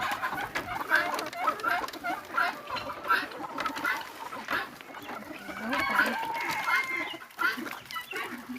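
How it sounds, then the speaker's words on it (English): Chickens on a Jamaican farm cluck in repeated short bursts close by, a busy, uneven chatter of several birds that runs the whole way through. "And those chicken down there, we realize they're big."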